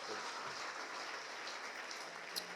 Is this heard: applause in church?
yes